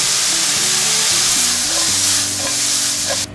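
Vegetables frying in a pan with garlic and sesame oil, a loud continuous sizzle while a utensil stirs and scrapes through them, ending abruptly.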